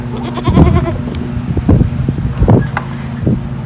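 Goats bleating in a farm goat lot, several short calls at intervals over steady wind noise, fairly close, with no talking.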